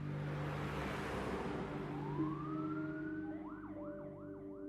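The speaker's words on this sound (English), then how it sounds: "They got Rusty onto a gurney, into the ambulance, and then they sped towards the hospital." An ambulance siren rises in a long wail, then switches to quick repeating yelps, faint and distant over a steady rumbling background as the vehicle speeds to the hospital.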